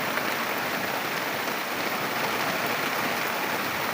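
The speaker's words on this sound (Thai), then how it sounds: "วันนี้ฝนตก ตั้งแต่ก่อนเที่ยงเลยครับ" Steady rain pouring at Khao Kho, a dense continuous hiss of drops on surfaces, even and unbroken with no voices.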